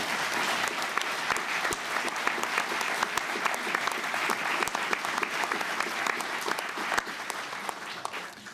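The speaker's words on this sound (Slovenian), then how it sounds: "prosim, en aplavz." Sustained audience applause fills a hall, dense and steady clapping from a crowd lasting the full stretch, moderately distant with no speech over it.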